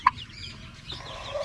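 Turkey and chicken chicks peep together in a brief, close burst of high cheeping calls with a sharp note at the start.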